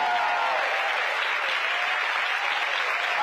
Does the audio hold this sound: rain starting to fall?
no